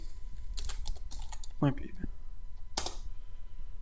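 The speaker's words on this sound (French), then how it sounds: "Donc nous pouvons taper git admin.pub." Quick keystrokes tap out a Git command on a computer keyboard in bursts, close and clicky, with a brief voice partway through and a final sharp key press.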